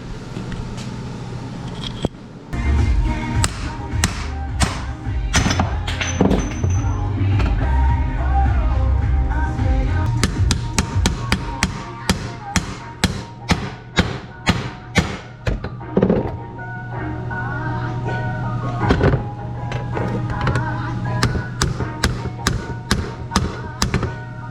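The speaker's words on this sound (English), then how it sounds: "I don't recommend hammering in your new bearings like that" Steel hammer driving new bearings into a quad (ATV) hub, a long series of loud, sharp metallic blows in uneven bursts, with a steady low hum underneath and no talk.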